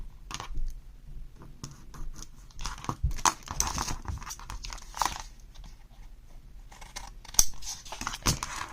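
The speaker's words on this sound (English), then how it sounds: "then I'll make a cut, and then I'll do the same on this side." Paper being cut for a 6x6 photo mini album, with close crisp snips and scratchy slicing strokes in uneven bursts over about nine seconds, no talking.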